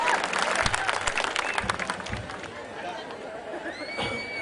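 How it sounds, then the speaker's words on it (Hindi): Audience applause at a Dussehra gathering of a North Indian community federation, a dense burst of clapping from a crowd that thins out midway, mixed with murmuring voices and a few whistles near the end. "एक जोरदार तालियां"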